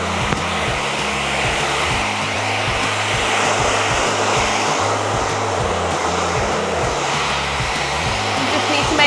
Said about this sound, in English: the end of my hairdryer. I'm going to do it on a high heat but a low speed